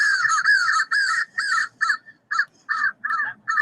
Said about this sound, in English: the different types of sounds that crows make